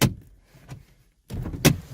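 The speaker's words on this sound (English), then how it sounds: "close all the doors, all the door close" On a 2007–2011 Mazda CX-7, two solid car door slams thud close by, one near the start and another after a short pause, each followed by a brief rattle.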